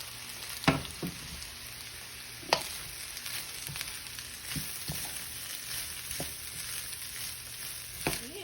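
Rice frying in a hot pan for homemade hibachi, with a steady close sizzle and a few sharper pops and stirring scrapes along the way.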